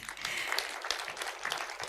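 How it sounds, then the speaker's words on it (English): An audience at an international conference session claps steadily for about two seconds, a dense patter of many hands heard from within the room. "I think he deserves more claps."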